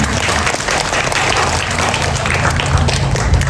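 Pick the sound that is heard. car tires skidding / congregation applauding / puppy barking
congregation applauding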